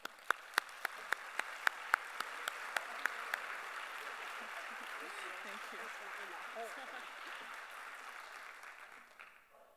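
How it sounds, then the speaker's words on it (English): Audience applause for a speaker at a citizens' assembly: a few sharp, distinct claps lead off, then many hands join into a sustained, fairly soft round that tapers near the end. "Please give a warm round of applause for Mrs. Deaton Duckwall."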